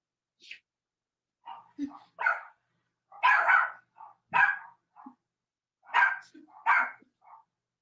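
A dog barks in short, separated bursts at close range, several yips and barks spread over a few seconds with quiet gaps between them.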